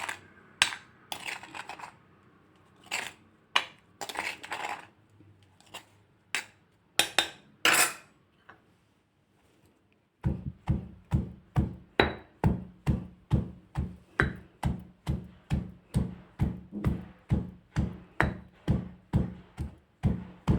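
Shallot chili paste is ground by hand in a stone mortar, first in irregular knocks and scrapes, then in a steady, evenly spaced rhythm of pounding strokes, close and alone.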